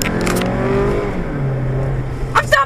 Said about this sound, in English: I was flooring it, though.